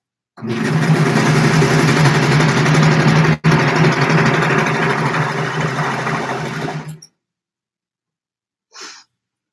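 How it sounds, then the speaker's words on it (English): A serger overlocks pajama seams in one loud, steady, close whir of about seven seconds, broken by a brief pause, then stops and is followed by a faint breath. "Now I have to serge the girls."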